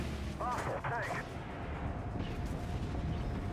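Missiles fired in a tank combat video game give a low, rumbling barrage of blasts beneath steady background noise, while a player talks over the start.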